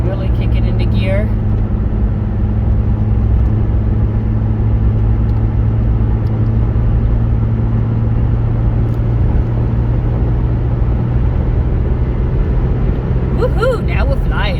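A 1997 Ford Mustang engine pulls up a hill with a loud, steady low droning rumble and road noise that never lets up, while a voice talks over it.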